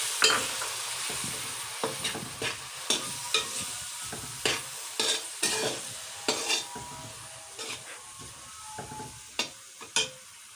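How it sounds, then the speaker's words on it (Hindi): Peas and mashed potato filling stirred and fried in a pan for stuffed bread rolls, a soft continuous sizzle broken by regular close scraping strokes of a spoon. "इसको मिक्स करके इसमें अब हम मटर डालेंगे।"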